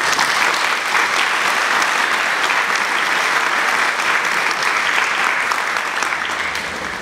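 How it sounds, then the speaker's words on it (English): Loud, dense audience applause at a school leadership ceremony at West Catholic Prep, a continuous roar of many hands clapping close by for about seven seconds before easing slightly at the end. "another big round of applause"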